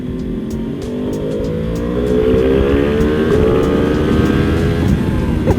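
A heavily modified Yamaha R1M sportbike engine pulls hard close by, its pitch climbing steadily through the revs into a loud, rising howl that holds near the end, with no voices.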